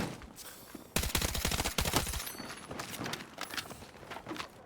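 Rapid automatic bursts from the KORD-6P67 weapon in Battlefield 6 ring out loud and close in a fast rattling string, followed by scattered fainter shots and in-game battle noise.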